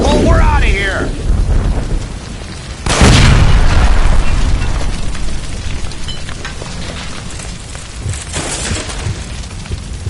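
Gas line explosion in the video game L.A. Noire, a sudden loud booming blast after a shouted line, followed by a long roaring rumble of fire and debris.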